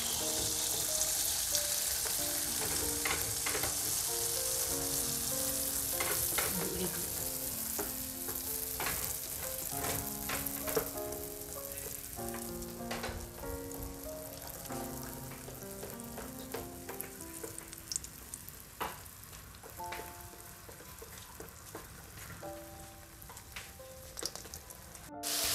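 Food sizzles and crackles steadily in hot oil in a home kitchen while making kucur and stuffed tofu, with scattered clicks and scrapes of stirring, close and continuous.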